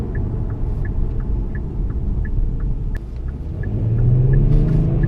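Kia Stinger switched into Race Plus mode, its engine a steady low rumble from inside the cabin that swells louder toward the end as it is given gas, with a faint regular ticking like a turn signal throughout.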